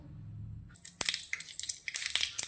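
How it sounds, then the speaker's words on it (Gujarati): Mustard seeds popping in hot oil while making green peas dhokla: rapid, irregular crackles and sharp pops starting after a quiet moment, close and moderately loud. "રાઈ આપણી ફૂટવા લાગી છે."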